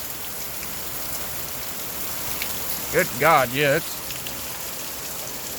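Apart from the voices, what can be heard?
heavy rain outside a shop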